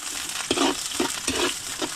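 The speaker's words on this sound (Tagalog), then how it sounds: "Ito na po ang igigisa na po. Luya." Ginger sautéing in a pan, a steady close sizzle with a few short stirring scrapes roughly every half second.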